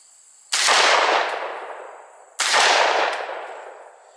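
Two loud shotgun blasts from a gun fitted with a full choke, fired outdoors about two seconds apart, each a sharp crack with a long fading tail.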